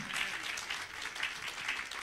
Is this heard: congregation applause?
yes